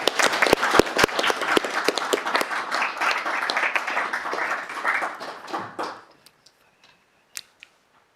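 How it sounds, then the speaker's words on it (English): At a city council meeting, a room of people claps, starting with a few sharp individual claps that swell into dense applause, then thins and stops after six seconds, leaving a couple of stray taps. "Let's give them a big clap again."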